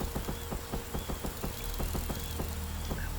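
Rain falls in the video game Empyrion, a steady close hiss with scattered patter and rhythmic light taps running throughout, loud and unbroken by any voice.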